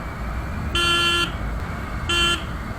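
Stock original horn on a Royal Enfield Classic 350 motorcycle, two bright buzzy honks, the first longer and the second shorter, loud and close over low outdoor rumble.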